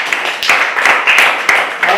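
Schoolchildren in a classroom clapping for a classmate, quick irregular hand claps in several bursts, close and fairly loud.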